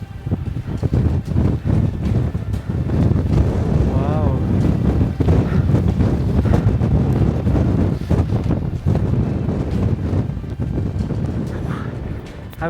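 Strong wind roars steadily over the microphone while trekking the high pass of the kora circuit around Mount Kailash at dawn, loud and continuous throughout, with a person briefly exclaiming.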